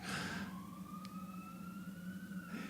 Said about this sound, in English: Got that ambulance standing in one spot, blasting its music.